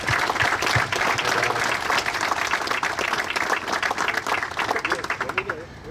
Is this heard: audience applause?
yes